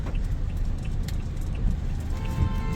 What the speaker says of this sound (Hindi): ट्रैफिक आ रहा है यहाँ से।